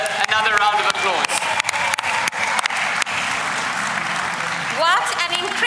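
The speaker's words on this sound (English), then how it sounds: "let's give Thembiso Ngema, our newly elected provincial leader, another round of applause." Congress delegates at a provincial party congress applauding their newly elected leader, a loud sustained wash of clapping from a large crowd, with cheers and shouting voices rising over it.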